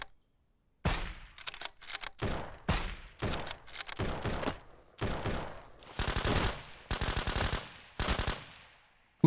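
A video game gun fires loudly in separate bursts, some single sharp cracks and some rapid automatic volleys, with short silences in between. No one talks.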